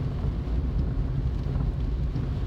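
Heavy rain drums steadily on the roof of a car driving at about 30 mph along a town road, a dense, continuous roar with low rumble and no voices.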